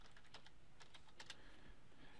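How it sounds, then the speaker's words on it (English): Typing on a computer keyboard during a web search, with soft, quick, irregular key clicks close by and very quiet, with no talking. "I'll start by typing in Trello and accessible technology"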